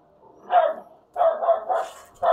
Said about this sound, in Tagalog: Ang ingay-ingay ng aso namin dito.